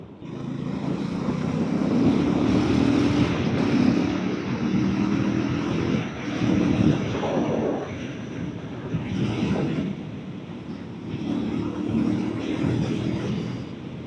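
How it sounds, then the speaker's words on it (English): Heavy wind blast roars steadily over the rider's helmet on a 2024 KTM Duke 390 motorcycle, a loud continuous rushing broadband noise that swells and dips slightly throughout. "There's a lot of wind and I can feel it."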